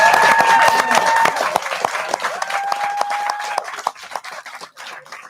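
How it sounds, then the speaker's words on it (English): Studio audience applause for a guest, a strong burst of clapping that thins into scattered claps and fades, with a sustained musical tone playing over it. "can we please get a big round of applause for Mr. Iain"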